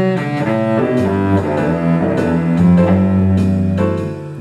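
Jazz cello phrase that starts on a pickup note instead of the downbeat, bowed close and loud in a flowing melodic line of connected notes, with no talking over it.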